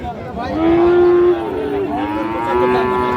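A Friesian or crossbred bull calf lows loudly and close by at the Raniganj cattle market, giving one long drawn-out moo and then a second one over a murmur of market background.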